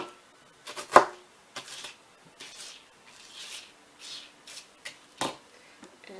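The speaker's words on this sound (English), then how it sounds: "I'm just going to continue chopping." A knife chops bread into small bite-sized pieces on a board, giving a close, irregular series of soft crunchy cuts with one louder knock early on.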